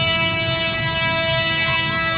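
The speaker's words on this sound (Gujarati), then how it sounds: "ટ્રેનનો અવાજ તમને સંભળાતો હશે." A kids' train ride horn at a fairground in Bhavnagar sounds as a steady, loud tonal blare over dense crowd and machinery noise, holding for a couple of seconds without a break.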